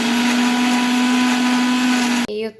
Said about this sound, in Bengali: আমি এগুলো দিয়ে ফার্স্ট একটু ব্লেন্ড করে কমিয়ে নিব